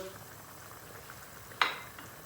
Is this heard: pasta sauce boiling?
yes